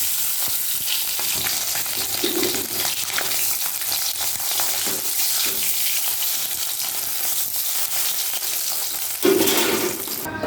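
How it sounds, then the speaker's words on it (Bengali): Eggs lightly frying in hot oil for an egg curry, a loud continuous sizzle and crackle with occasional spoon stirring and a brief burst of spattering near the end. "এবারে তেল গরম হয়ে গেলে ডিমগুলোকে হালকা করে ভেজে নেব।"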